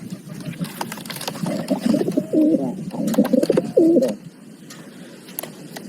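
Pigeons coo in a series of low, throaty calls, one bird crest-headed, with several bursts overlapping in the middle and fading toward the end against faint background noise.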